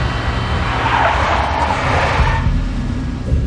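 A car skids in the video game Max Payne, with a sustained loud screeching tire squeal and engine roar over a few seconds, no voices.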